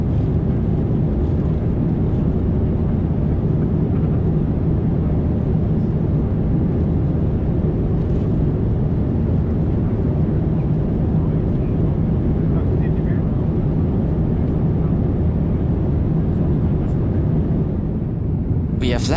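Cabin of an Air Europa Boeing 787-9 Dreamliner cruising at 39,000 feet between Amsterdam and Madrid, filled with a constant, loud, low engine and air roar that stays level throughout.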